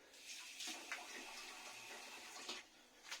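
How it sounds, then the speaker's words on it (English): Water runs steadily from a kitchen tap in a home during sourdough making, a soft, continuous hiss and splash with faint fluctuations and no talk. "I'll get some water and put it on there."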